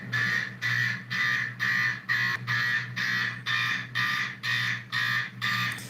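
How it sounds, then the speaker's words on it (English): An electronic buzzing alarm pulses on and off in an even rhythm, about two bursts per second-and-a-half, harsh and steady with nothing else around it. "Sounds more like some sort of buzzer than a mechanical horn."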